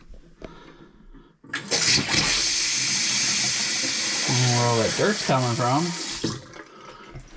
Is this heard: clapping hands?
no